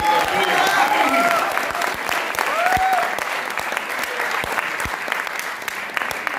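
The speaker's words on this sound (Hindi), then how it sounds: "एक बार सबकी तालियां मिल जाए और बढ़ने का प्रयास करें।" Audience applause at a Hindi poetry recital, a loud sustained clapping from a crowd, with a speaking voice briefly audible over it.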